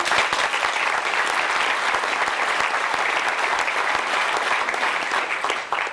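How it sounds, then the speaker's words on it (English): A banquet audience at a fan club event applauds, a thick, steady wash of many hands clapping at close range that holds evenly throughout. "I think they deserve a round of applause"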